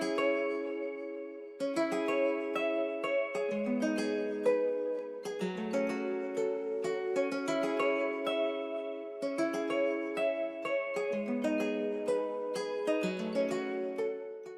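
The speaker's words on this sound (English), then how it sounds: "my guitar layer now sounds like this" A Spanish-style plucked guitar melody, processed with EQ, Guitar Rig and Soothe 2, plays close and clean in flowing repeated phrases of chords and single notes, alone without talk.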